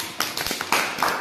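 A handful of children clapping their hands together, giving several quick, uneven claps close by with short gaps between them.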